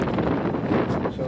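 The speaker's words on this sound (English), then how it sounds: "it's getting windy" Steady wind rushing and buffeting across an outdoor microphone, a dense continuous roar with no clear breaks.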